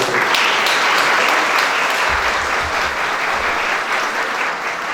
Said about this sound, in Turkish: Sizlerden bu ekip için büyük bir alkış istiyorum.